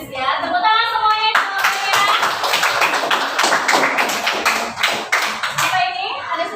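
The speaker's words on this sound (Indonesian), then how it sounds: "Tepuk tangan semuanya." An audience claps after a group presentation on ethnic dances, a dense, steady burst of applause that swells in the middle and fades, with voices and a child's speech before and after.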